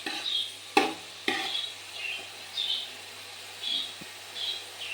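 Drained pineapple sautéed in coconut oil for payasam is stirred in a pan, giving a rhythmic scrape every half second or so over a soft, steady sizzle, with a couple of sharp knocks against the pan, close and clear, with no voices.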